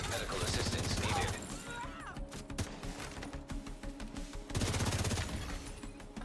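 Rocket fire and explosive shooting in a firefight in the video game The Division 2, loud bursts of blasts and rattling gunfire that ease briefly mid-clip, then surge again.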